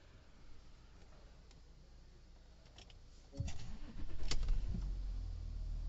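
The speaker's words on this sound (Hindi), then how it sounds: "चलिए कार को कर रहे स्टार्ट," A Porsche Cayenne 3.0L TDI diesel engine starts: a quiet idle background gives way to a sudden cranking catch, then a steady low rumble as the engine settles into running, with no speech over it.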